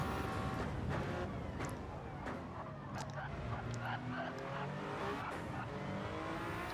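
A BMW race car lapping Spa in a multi-class endurance racing video game, its engine revving and shifting with a whining drone and occasional tire noise, heard faintly with other cars in the background.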